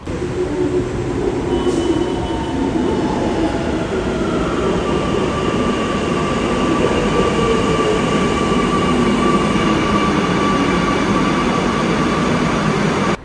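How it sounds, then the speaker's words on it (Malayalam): A steady, loud rumble of a Kochi metro train in motion, with rolling wheel noise and faint high whines drifting in and out, no voices. "മെട്രോ കയറി നമ്മൾ വേണ്ട ആലുവയിലെത്തി."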